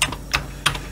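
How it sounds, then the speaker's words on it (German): Keys pressed on a Commodore C64/C128 computer keyboard: three or four sharp close clicks spaced apart, alone and fairly loud. "Wenn ich jetzt die Commodore-Taste drücke, starte ich im C64-Modus."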